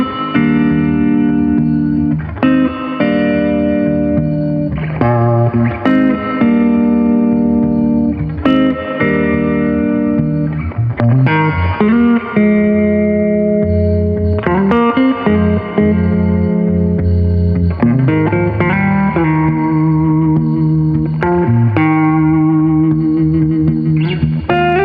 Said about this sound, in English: This has got a lovely spring reverb on this amp